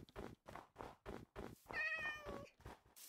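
Repeated short meows from a cat in Minecraft, about nine evenly spaced cries, with a longer, higher drawn-out meow in the middle, fairly faint and clear with no talk over them.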